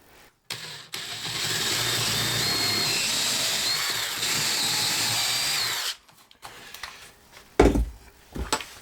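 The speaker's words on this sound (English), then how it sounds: "I'm drilling these holes so I can do these lag bolts right here with leg screws." A power drill whirs steadily for about five seconds, drilling holes for lag bolts during a bathroom corner sink install, then stops; a few knocks and clattering handling sounds follow, with one louder thump.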